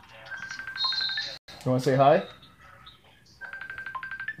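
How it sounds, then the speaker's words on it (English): A phone rings during a live stream, its electronic ringtone chiming in repeated short bursts, with a voice cutting in between the rings and more rings following. "Why is my phone still ringing?"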